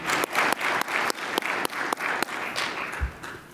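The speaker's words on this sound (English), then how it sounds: "I'd like to give you a big round of applause for making this an interesting and productive discussion." Audience applause for panelists closing a transportation conference discussion session, a steady burst of clapping from a room of people with sharp individual claps standing out, fading slightly toward the end.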